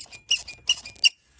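Squeaky clutch lever on a dirty Yamaha R1 motorcycle, three sharp high-pitched squeaks in quick succession as the lever is worked, close and clear with no talk.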